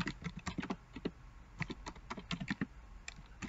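Typing on a computer keyboard, quick irregular clicks and taps in close bursts with short pauses, no one speaking.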